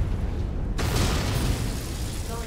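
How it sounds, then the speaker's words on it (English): A mech's ammunition detonates in a video game with a sudden loud blast, followed by a sustained rumbling roar and crackling debris that slowly fades. "Ammo explosion."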